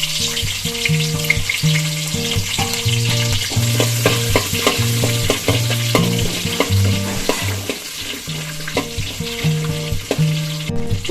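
Shallots sizzle steadily as they drop into hot coconut oil already popping with mustard seeds and two cardamom pods, a continuous bright crackle running under loud melodic background music throughout.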